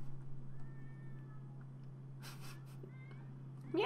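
Video game cat giving a meowing mating call: two thin, drawn-out meows over a steady low game hum, a soft burst of noise in between, and a louder cry starting at the very end.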